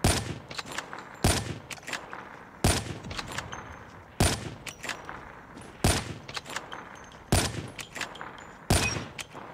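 Call of Duty Mobile gunfire: rapid bursts of automatic shots repeat in a regular pattern, each burst opening with a sharp loud crack, close and dominant with no talk over it.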